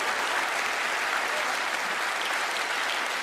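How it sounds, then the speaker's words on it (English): A studio audience claps steadily and loudly for a magician named Carlos on a magic competition show, broadband applause filling the whole stretch without pause. "Give Carlos a round of applause as he makes his way down."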